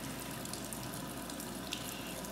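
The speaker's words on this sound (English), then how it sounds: "Start filling that up again with some clean water." A faucet running steadily into a sink being refilled with clean water for a Yorkie puppy's bath, a constant soft hiss and splash with no talk.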